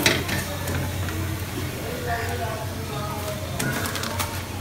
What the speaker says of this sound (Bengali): আমি এখন জাস্ট দেখো পরোটা ভাজছি